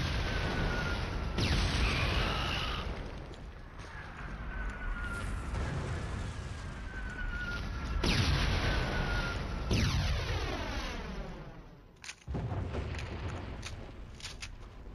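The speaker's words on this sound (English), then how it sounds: "Clear the room with a grenade. Incoming frag!" Loud, chaotic blasts and rumbling booms fill a battle scene in the Killzone video game, a grenade explosion among bursts of gunfire and crashing impacts that swell and fade across the stretch.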